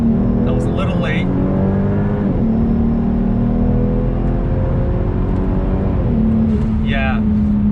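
A Volvo S60 T6 fitted with an Elevate intake manifold accelerates from inside the cabin, its engine note rising in pitch through the revs, with brief voices heard during the run.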